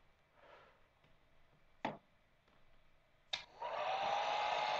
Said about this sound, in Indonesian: Coba kita panaskan lagi menggunakan uh, hair dryer kita.